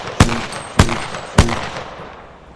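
Three evenly spaced, sharp gunshots from a video game, each a loud crack followed by a short decaying tail.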